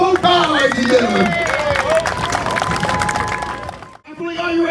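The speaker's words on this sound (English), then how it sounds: "round of applause for Carter" Applause and cheering from an audience at a strongman competition, a loud wash of clapping and crowd noise with a voice talking over it before briefly dropping away.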